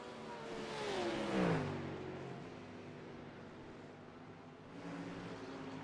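Ford Mustang race car engine in a racing video game at Silverstone, a steady droning engine note that rises in pitch and fades slightly, running continuously without speech.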